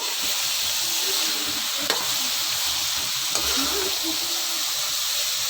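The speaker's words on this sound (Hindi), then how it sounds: "बस अब मैंने इसको मिक्स कर दिया" Cauliflower and minced mutton sizzle steadily in a pan, with a couple of soft spoon-scrape knocks as the mixture is stirred, close and continuous with no voices.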